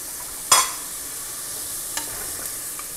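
Garlic dropped into a hot pot of oil for Dominican rice and corn, a sharp hiss on contact that settles into a faint steady sizzle with a couple of small clicks.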